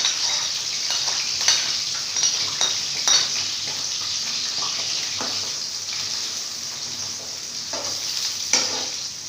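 Onions sizzling in hot ghee for chicken biryani, a steady close fry hiss with occasional stirring scrapes and light utensil clinks against the pan.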